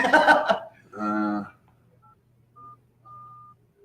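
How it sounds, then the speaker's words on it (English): Telephone dialing beeps: a few short, faint electronic tones spaced apart, following a brief burst of laughter and talk at the start. "Ah, okay, it's dialing"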